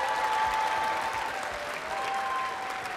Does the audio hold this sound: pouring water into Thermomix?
no